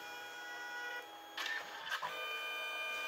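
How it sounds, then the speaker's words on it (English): Small battery-operated photo printer printing its yellow colour layer, with a steady whirring mechanical hum broken by a few brief clicks and squeaks, quiet and close. "It prints the yellow first, so it all looks yellow."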